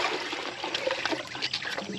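Milk replacer poured one-handed from a bucket into a feeding container for a growing calf, a steady close trickling stream of liquid splashing for about two seconds with no talk.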